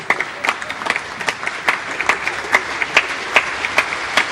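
Audience applause fills the Sydney State Theatre at a 1988 Ashton-Tate dBase IV software launch, a steady close wash of clapping with sharper individual claps standing out throughout.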